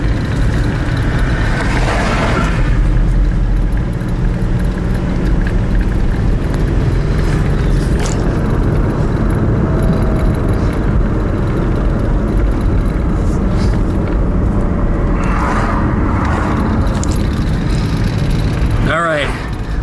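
A Nissan 350Z converted into a tow truck pulls a VW bus through a turn on a road, its engine droning steadily and loudly under occasional passing-traffic whooshes throughout.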